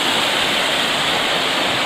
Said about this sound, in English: Yep, this is where we cross the river.